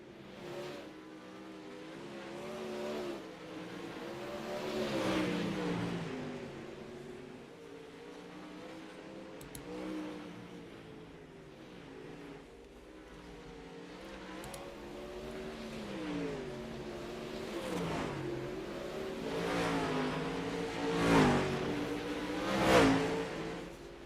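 Dirt late model race cars roar around a dirt track in a late-race battle, engines rising and falling in pitch as they power through turns, some passes louder and nearer, with a continuous crowded engine drone and no talking.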